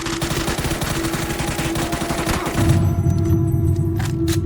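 Rapid bursts of automatic gunfire in PUBG crackle continuously, then give way to a lower rumble with a few sharp shots near the end.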